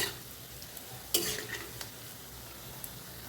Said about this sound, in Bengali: এটাকে আমি ভালোভাবে ভেজে নেব। এটা ওই পিঠটা এখন কিন্তু আমি উল্টে নিচ্ছি ভালো করে।